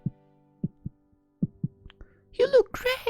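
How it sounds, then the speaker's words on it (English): Heavy heartbeat thumps from a video game, a slow, uneven series of low pulses, near and loud in a quiet space, followed by a burst of higher, busier sound at the end. "Why is my heart pounding so hard?"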